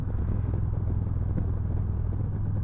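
A Victory XC motorcycle engine runs at a steady low idle, a faint continuous rumbling throb with no voices.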